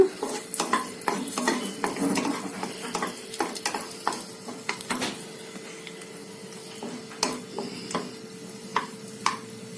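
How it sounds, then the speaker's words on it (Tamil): Raisins frying in hot ghee for a Tamil white pumpkin (kasi) halwa, a steady close sizzle broken by frequent sharp clinks and scrapes of a spoon stirring against the pan, with no talking. "இப்போ இந்த நெய்யிலேயே திராட்சையும் வறுத்து எடுத்துக்கலாங்க"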